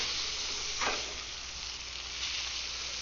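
Blackened fish sizzling on a very hot pan, a loud continuous close sizzle with a brief burst of crackle as the pieces are flipped.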